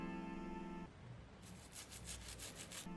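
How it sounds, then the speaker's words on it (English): An old toothbrush with dish soap scrubs a model horse, giving a soft steady rubbing that turns into a run of quick, even brush strokes, close and alone. "give him a good old scrub with some dish soap and an old toothbrush."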